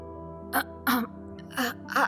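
A series of short throaty clearing sounds and small coughs, four or five quick bursts, close to the ear with quiet between them.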